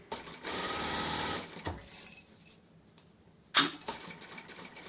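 A sewing machine stitches a zippered pouch: a fast whirring run for about two seconds, then slower stitching through thick layers, a pause, and a sharp mechanical clunk before a quieter resumption.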